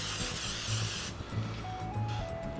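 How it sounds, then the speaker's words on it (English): Cooking spray hisses onto breaded pickles before air frying: one steady, close spray burst of about a second, then quieter kitchen sounds. "I got just a little cooking spray."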